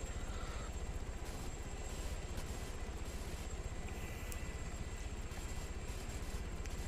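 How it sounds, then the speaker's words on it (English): A jet aircraft in the video game Arma 3 produces a steady, faint roaring drone that holds evenly throughout, with no voices over it. "I'm trying to avoid all these bloody jets."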